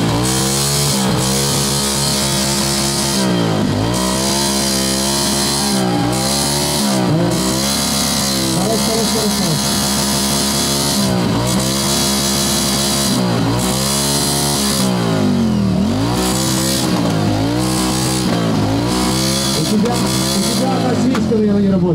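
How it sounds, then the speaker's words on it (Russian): A Yamaha Virago motorcycle engine runs loud and close at an old-school motorcycle festival, revving repeatedly in rising and falling surges over a constant rumbling idle, with crowd noise underneath. "Давайте услышим второй мотоцикл."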